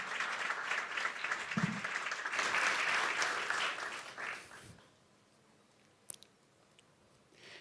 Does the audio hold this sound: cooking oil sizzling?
no